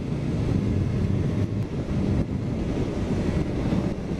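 Heavy wind roar buffets the microphone while a 2015 Suzuki GSX-S750 naked motorcycle cruises on the highway, a dense low rumble with brief dips, loud and steady throughout.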